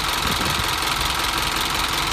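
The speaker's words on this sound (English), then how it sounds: "Now we're going to look at the meat of the truck, at the engine. It's got a 4-cylinder turbo" A 2010 Isuzu NQR truck's 4-cylinder turbo diesel engine, 205 horsepower, idles in a steady close rumble with an even knocking pulse and no voices.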